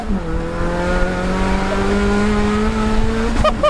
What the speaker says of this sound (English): That's what 380 brake horsepower is in a front wheel drive Astra Vxr